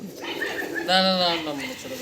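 Flying pigeons give low coos over a raised, tonal call in the middle, with a voice speaking nearby.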